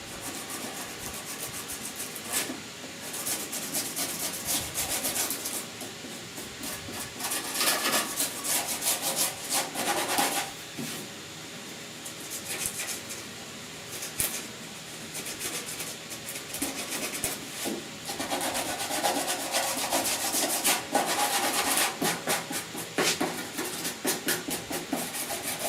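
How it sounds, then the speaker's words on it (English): Body filler on the upper cowl of a 1969 Chevy C10 is hand sanded in rhythmic rasping strokes, back and forth at a moderate pace, close and steady with brief pauses, no talk. "I'm not sanding this hard by any means"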